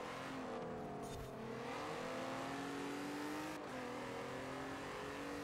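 A car engine revving and accelerating in the racing game Forza Horizon 4, with rising gear pulls and brief shifts, steady and fairly quiet with no speech.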